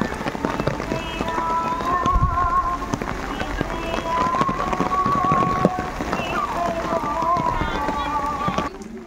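Steady rain falls outside the Nirmala Mary Mata church market place under a clouded sky, a continuous close patter with voices murmuring through it.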